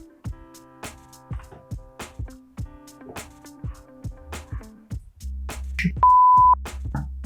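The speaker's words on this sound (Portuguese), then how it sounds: "depois de você colocar o som do bip aqui, está pronto" Censor beep sound effect in video editing software, a single steady high tone toward the end, over a busy background of rhythmic clicks, drum hits and sustained tones.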